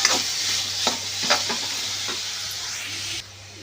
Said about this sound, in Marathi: आता आपण यामध्ये टोमॅटो घालून घेऊया. टोमॅटो सुद्धा छान परतून घ्यायचा आहे.